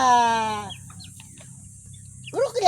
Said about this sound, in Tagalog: pagkain mo ate Mili, papaya lang sa mga manok mo, tsaka ano.